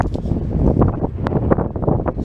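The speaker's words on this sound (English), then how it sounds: "It's windy and it's cold" Wind buffets the microphone at York railway station on a cold day, a steady, loud rumbling roar with gusty swells and no voices.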